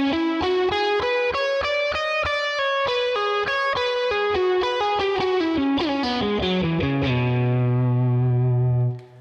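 Electric guitar plays a fast pentatonic lick, crisp picked notes with effects and slight drive cascading downward, ending on a sustained note that rings out, alone.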